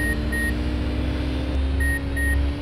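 The intro music of the Sega Saturn game Hi-Octane plays beepy electronic tones that repeat in short pulses over a steady droning hum.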